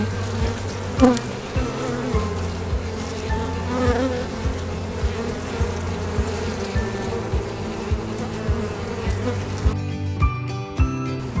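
Honeybees drone in a dense, steady buzz at an open hive during a hive split, with individual bees flying close by over a continuous low hum.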